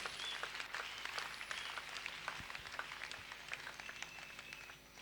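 A church congregation at a Bible seminar claps and applauds the Lord, a dense, continuous patter of many hands at moderate distance, steady throughout with a slight dip near the end.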